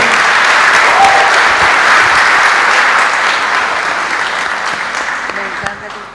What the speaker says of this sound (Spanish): Un aplauso, pues, para esta hermana